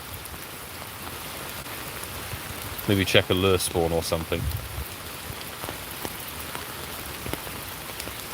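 Steady rain falling outdoors, a constant close hiss of drops on surfaces that continues throughout, with someone talking briefly in the middle.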